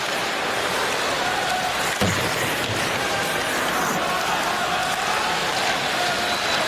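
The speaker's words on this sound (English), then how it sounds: "as the crowd chants Poulin" At a Detroit Red Wings versus New York Islanders NHL game, a hockey arena crowd keeps up a loud, continuous roar that sounds like a chant for goalie Poulin, with a brief thud partway through.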